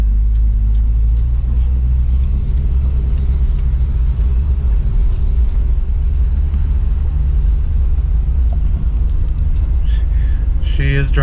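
An old Pontiac, left sitting for 23 years, drives with a loud, steady low engine rumble and road drone throughout, close up, with a brief rattle near the end.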